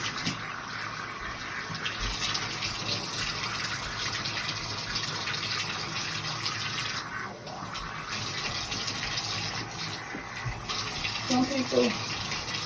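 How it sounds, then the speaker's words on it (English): Tap water runs steadily into a bathtub during a morning cleaning routine, a continuous, even rushing hiss that lasts throughout without pause. "Now, I'm just gonna let the water run."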